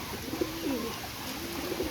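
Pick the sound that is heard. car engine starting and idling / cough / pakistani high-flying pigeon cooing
pakistani high-flying pigeon cooing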